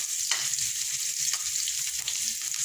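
Ginger frying in a hot pan gives a steady, close sizzle throughout, with a few brief clinks or stirring scrapes rising above the hiss.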